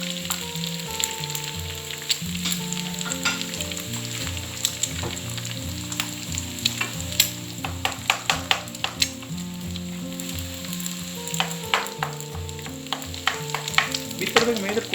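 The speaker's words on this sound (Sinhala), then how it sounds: "බිත්තර දෙක මේ විදිහට කුක් වෙගෙන යනකොට" Two eggs frying in a pan while chicken fried rice is being made, a continuous close sizzle with frequent sharp spatula scrapes and clinks against the pan, without talk.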